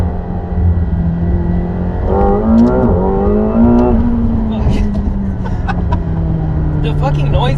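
A McLaren 720S engine drones loud and close from inside the cabin during a launch, its pitch rising and then holding steady, with people talking over it.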